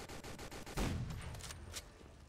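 Rapid bursts of gunfire ring out in a Roblox shooting game, sharp repeated shots aimed at the player, followed by a heavier blast and a few scattered pops.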